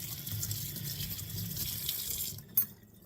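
A kitchen sink tap runs water in a steady splashing stream for about two and a half seconds, then shuts off with a brief clunk, close and alone.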